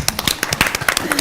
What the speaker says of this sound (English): So can we just give him a round of applause?